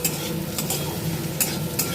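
Bay leaves, cloves, cinnamon and cardamom frying in oil with a little salt, a steady close sizzle with occasional scraping stirs.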